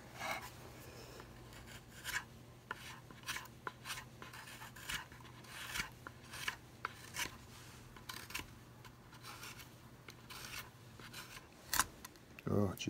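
Hand rasp filing a carved longhorn steer skull, a series of short rasping strokes in an irregular rhythm, close and fairly faint, with talk underneath.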